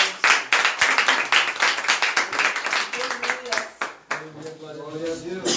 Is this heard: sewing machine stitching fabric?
no